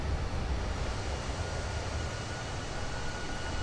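Airbus A320 engines drone in Microsoft Flight Simulator on a flight from Halifax to Boston: a steady, dense broadband roar with a deep low rumble, constant in level and heard alone.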